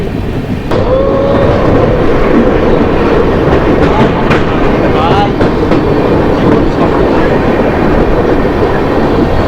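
Samaleswari Express, Howrah to Jagdalpur, hauled by a WAP-7 electric locomotive, rumbles along steadily with continuous wheel clatter, loud and close throughout.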